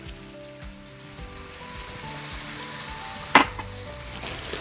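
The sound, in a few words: beef broth added to sizzling cheeseburger skillet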